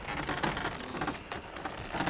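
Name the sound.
hot metal quenched in water, Kingdom Come Deliverance 2 video game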